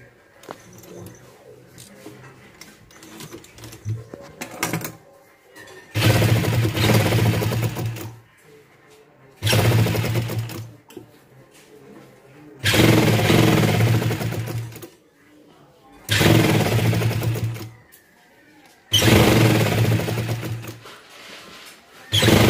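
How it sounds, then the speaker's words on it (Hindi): A sewing machine stitching a seam on a one-year-old baby's night suit, running in several loud, steady bursts of rapid mechanical whirring separated by brief pauses with quieter handling sounds. "अब इसके सेंटर में एक सिलाई लगा देंगे।"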